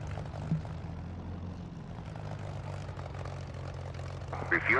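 A jet engine spools up during startup in the DCS flight simulator game, a low steady rumble with a rising whine near the end. Someone talks over it at times.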